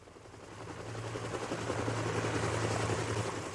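A military helicopter from archival war footage thuds and drones in a steady, moderately loud rotor rumble that builds slightly and holds throughout, with no voices.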